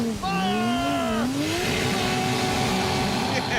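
A muscle car engine revs hard up to the rev limiter, a loud close roar whose pitch climbs and wavers before settling into a sustained high, strained drone.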